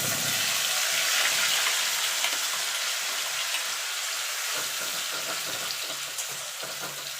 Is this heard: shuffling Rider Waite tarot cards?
no